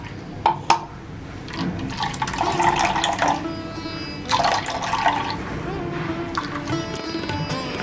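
Water poured over grated fresh coconut in a pot and squeezed through a strainer to press out coconut milk, giving a steady liquid trickle and splashing with a few sharper knocks near the start, fairly close.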